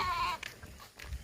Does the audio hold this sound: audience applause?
no